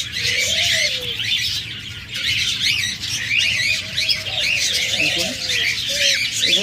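Caged budgerigars, cockatiels and lovebirds squawk and chirp in a dense, continuous chorus, loud and close, with a voice talking underneath.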